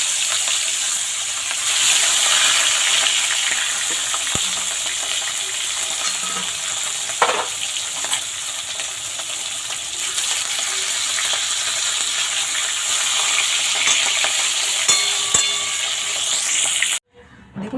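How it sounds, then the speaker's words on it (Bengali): Fish frying in oil in a pan, a steady bright sizzle with occasional spatula taps, running at an even level before cutting off abruptly near the end. "এবার বাকি মাছগুলো এইভাবে ভেজে নেব"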